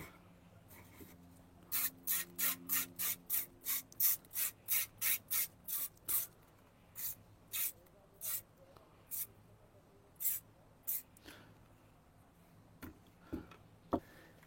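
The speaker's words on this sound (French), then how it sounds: "je frotte avec l'éponge" A sponge scrubbing beehive equipment with bleach disinfectant in a rhythmic series of quick, close rubbing strokes, fast and regular at first, then slower and more spaced out, with no talking.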